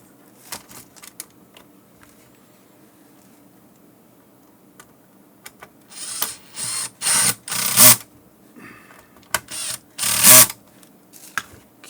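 Power driver sinking screws while mounting a numeric keypad for a 3M XT-1 drive-thru wireless intercom, with quiet ticking handling at first, then several loud whirring bursts of varying length close by.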